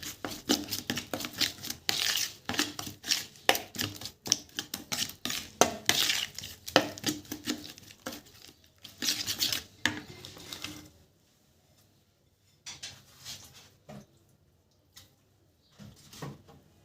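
Utensils clatter and scrape rapidly against a bowl while ingredients for breaded chicken are stirred and mixed, loud busy bursts for about ten seconds, then a lull with a few quieter scrapes.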